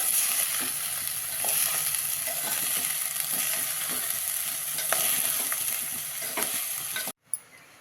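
A sweet coconut rice mixture with sugar is stirred in a pan over a lowered flame, spoon scraping repeatedly under a steady soft sizzle, close up, cutting off abruptly near the end.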